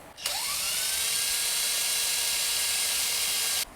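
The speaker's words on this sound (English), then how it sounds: "get some locator pins drilled down through here" A drill bores locator pin holes down through a guitar fretboard clamped to its neck, a steady high-pitched whine that spins up sharply at the start, holds constant and cuts off abruptly near the end.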